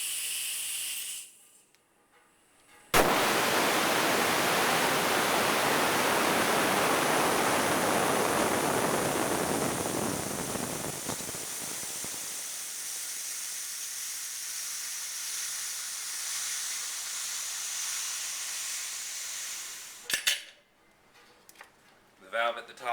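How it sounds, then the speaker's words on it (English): Compressed air bleeds from a sandblaster line through an open nozzle in a loud, sustained rushing hiss that starts abruptly, gradually weakens and then cuts off, with brief handling sounds before and after. "2 ways to bleed the line: pulling down on this wire hook"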